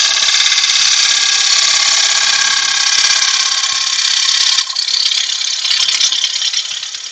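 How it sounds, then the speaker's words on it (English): A 1/2 inch bowl gouge hogs out wood on a spinning lathe, giving a loud, steady rasping cut that runs unbroken for several seconds, then shifts to a brighter, harsher tone near the end. "What I'm trying to do is hog out most of this with the 1/2 inch bowl gouge"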